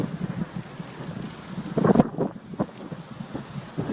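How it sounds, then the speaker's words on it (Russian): Strong wind buffets the microphone in a steady, rough rush with gusty swells and a brief louder burst midway, heard outdoors with no one talking. "Ветер не для слабаков."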